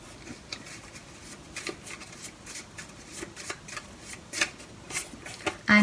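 Tarot cards being shuffled and drawn from a deck, a soft steady riffling and flicking with a series of light card snaps, close and quiet, with no voice and a brief louder rustle at the end.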